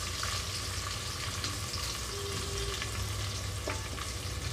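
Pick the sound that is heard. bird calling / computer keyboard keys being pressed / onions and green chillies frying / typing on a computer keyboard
onions and green chillies frying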